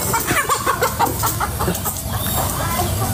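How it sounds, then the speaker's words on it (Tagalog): Chickens cluck repeatedly and loudly close by, a steady stream of clucks over constant background noise. "Ang ingay naman ng manok."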